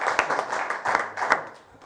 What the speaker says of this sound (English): We can give you a applause for that.